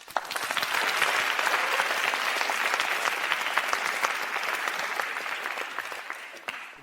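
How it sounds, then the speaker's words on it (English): Audience applause fills a lecture hall at a communication talk, steady dense clapping sustained for about seven seconds with no voices over it, swelling briefly at the start and fading slightly at the end. "Let's give a round of applause."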